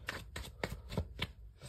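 Tarot cards are shuffled close by in a quiet room, giving a rhythmic run of soft, papery riffles and taps repeating about every third of a second.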